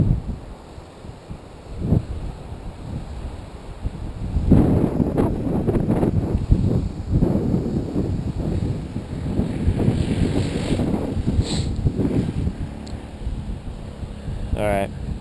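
Gusty wind sweeps across a cliff top during RC glider slope soaring, rumbling and buffeting the microphone and building in strength after the first few seconds. Muffled talk is heard at times under the wind.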